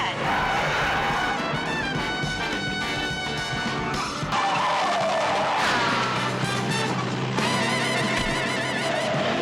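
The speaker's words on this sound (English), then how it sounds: "everyone gets in their Fords and they have a car chase" A car chase with Ford cars plays as a loud, dense mix of roaring engines, screeching tire skids and crashing impacts, with dramatic music layered throughout.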